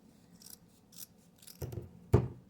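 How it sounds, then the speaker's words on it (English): Scissors snipping through burlap folded into several layers to cut a wing shape for an angel ornament, a few soft close cuts building to sharper crunching snips, with no talking. "So I usually will fold it in half and then fold it in half again. And I cut out some sort of wing shape."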